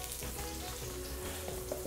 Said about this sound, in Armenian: որպեսզի խճճուղակը չարտահոսի և թող սկսի տապակվել, բոլոր կողմերից պիտի տապակենք